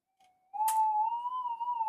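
A metal detector's steady electronic tone hums, then jumps louder and wavers slightly in pitch with a tripod beside the coil, with a brief hiss burst near the start of the louder part.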